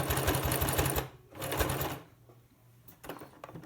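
A sewing machine stitches a fabric face mask in close, steady bursts of rapid mechanical rattling, pausing between runs and then starting again more softly.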